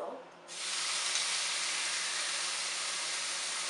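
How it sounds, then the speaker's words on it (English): Steak dropped into a smoking-hot pan for searing gives a sudden loud hiss that settles into a steady, bright sizzle lasting several seconds, with nothing else heard. "Listen for the sizzle."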